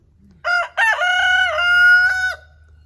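Several roosters on a farm crowing, one loud, close, drawn-out crow with a rising and falling pitch lasting about two seconds, over faint low background rumble.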